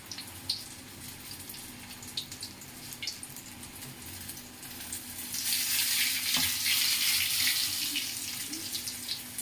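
Chilli bajji, battered green chillies, fry in a shallow amount of hot oil, giving a steady close sizzling hiss that swells louder partway through, with no talking.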